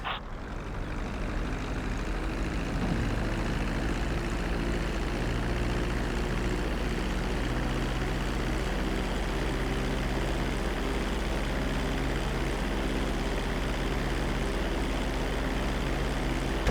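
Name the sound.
airplane engines landing in Grand Theft Auto V video game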